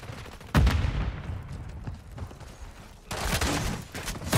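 Gunfire on the Rust map in Call of Duty MW3: two heavy bursts of automatic fire land at the start and again near the end, with rattling lower-level shooting between them and no talk.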